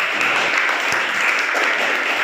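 Applause from a classroom group of teachers or students at a school session on differentiated learning, a steady dense patter of clapping lasting about two seconds with no speech over it.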